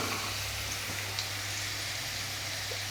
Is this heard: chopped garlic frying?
yes